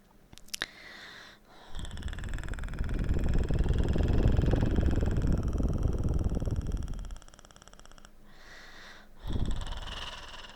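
A voice imitates a cat's purr with a long, low rumbling rattle, close and steady, preceded and followed by quiet breathy sounds.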